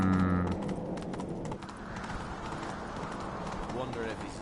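Roach, a horse in Witcher 3, trotting with a steady clip-clop of hooves under game ambience, with a voice speaking over it.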